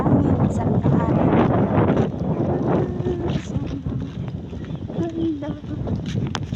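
Gusty wind buffets the microphone in low rumbling bursts, with people talking faintly in the background.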